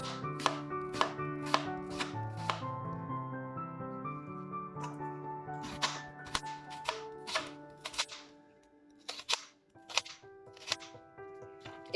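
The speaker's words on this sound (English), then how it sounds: "So now you have your half and you are going to chop thin slices." A knife chops thin slices from half an onion on a cutting board in a cottagecore home kitchen, with a run of sharp, evenly spaced chops, a pause, then more chops, all set against soft background music.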